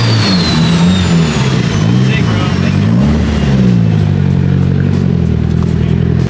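A single turbocharged car revs hard right after a clutch dump, its loud engine note sweeping up and down continuously and close by, with crowd noise and voices underneath throughout.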